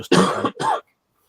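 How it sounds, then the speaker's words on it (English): A man coughs twice in quick succession, close and fairly loud, with a brief gap between the harsh bursts and silence after, during a West Yorkshire radio round-up. "I coughed there, mate."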